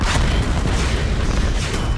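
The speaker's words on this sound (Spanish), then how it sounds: "¡Qué explosión!" A loud, rumbling explosion in the 2013 Tomb Raider video game, with heavy low-end boom and crackling debris, sustained and dense throughout.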